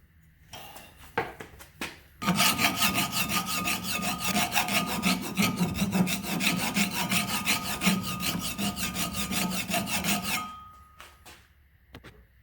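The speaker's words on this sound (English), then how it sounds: "I smooth out all the edges and then round up the top a little bit" Hand filing smooths the sharp edges of a metal part for a Nissan 300ZX Z31 clutch slave cylinder fix. Steady back-and-forth rasping strokes run loud and close for about eight seconds, with no talk.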